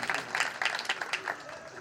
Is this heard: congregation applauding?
yes